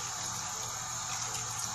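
Water pours steadily into a pot of curry with gram flour and yogurt mixture, a continuous close rushing splash with no talking.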